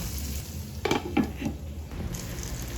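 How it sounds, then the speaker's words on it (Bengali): Chopped tomato fries with ginger, garlic and onion paste for a mutton biryani, giving a faint, steady sizzle broken by a few quick stirring scrapes of a utensil against the pan. "তারপরে টমেটো কুচি দিয়ে দিচ্ছি, এটাও একটু ভেজে নেবো।"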